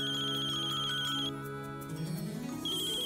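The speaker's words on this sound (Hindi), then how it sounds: "राज का फोन है." A mobile phone ringtone plays during a home cooking lesson, a steady repeating electronic melody of bright beeping tones over a sustained tonal backing, fairly loud and alone with no talk.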